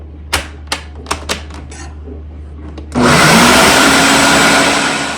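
A kitchen blender grinds peanuts into homemade peanut butter, starting abruptly after a few sharp knocks and clicks and running as a loud, steady whirring roar to the end.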